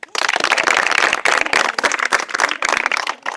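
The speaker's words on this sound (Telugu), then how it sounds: "అందరి కోసం ఒకసారి చప్పట్లు కొట్టండి" A group of people clapping together in a room, dense and sustained applause with uneven bursts and brief dips, fairly loud and close throughout.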